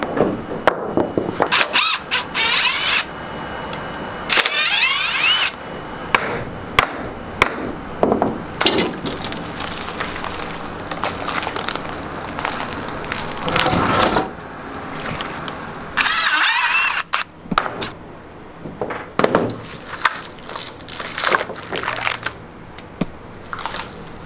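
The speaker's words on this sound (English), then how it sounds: "we'll also be demolding the 4-foot round burl table that we're doing for Olympia Trust" Wood and epoxy workpiece, a 4-foot round burl epoxy table, being pried and knocked free of its mold: repeated sharp cracks, scrapes and thumps with bursts of broadband noise, close and loud, with no talking.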